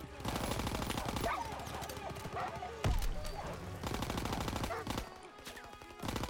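Dense, rapid bursts of gunfire in the video game Call of Duty: WWII rattle almost nonstop, with heavy booms mixed in, loud and chaotic like a busy battle scene.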